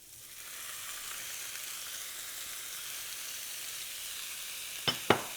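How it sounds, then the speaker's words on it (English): Salted and peppered meat hits a hot pan and fries for carbonada criolla, a steady hissing sizzle that swells in after a moment and holds, ending with two sharp knocks or clatters near the end, no talk. "And then I fry it."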